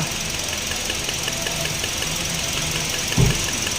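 A misfiring Toyota Vios engine idles roughly with a steady, uneven rumble and a single dull thump near the end.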